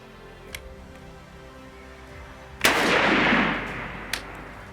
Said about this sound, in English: There's the first shot.